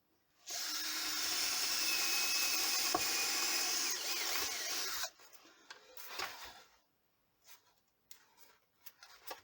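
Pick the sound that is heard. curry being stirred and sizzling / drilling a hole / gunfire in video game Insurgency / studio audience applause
drilling a hole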